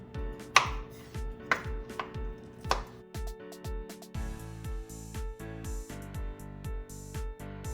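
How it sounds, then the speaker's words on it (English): Garlic cloves being chopped on a cutting board for tomato soup: quick, close knife thuds in uneven bursts, sharper early strokes then a faster run of softer chops, with a faint hum beneath and no talk. "I'm gonna chop them all up."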